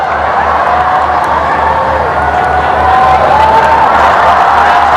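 Stadium crowd cheering and whooping for a showboating sprinter at the 29th SEA Games 2017 athletics, a loud sustained roar of many voices that swells slightly toward the end, with scattered shouts above it.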